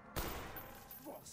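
M14 rifle gunfire in a video game, a sharp shot at the start that rings out into a sustained burst of game noise, quiet and distant in the mix.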